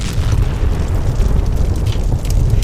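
Roaring fire as the ancient Persian palace city of Persepolis burns, a steady loud low rumble with crackling texture, continuous throughout with no voices.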